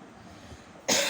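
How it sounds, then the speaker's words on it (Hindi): A single sharp cough bursts out near the end of a short quiet stretch, close and loud after near silence, from a woman who has been coughing whenever she greets people. "आजकल 3 दिन से मैं जैसे ही सलाम या ग्रीटिंग्स करती हूँ मुझे फ़ौरन खांसी आ जाती है।"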